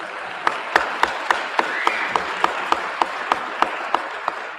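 Audience applause at a Harlem debate event, with steady sharp claps repeating at an even rhythm across the whole stretch, close and moderately loud with no voices over it.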